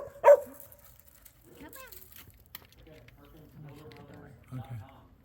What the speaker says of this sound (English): So that's why the dogs are out here. They're just barking.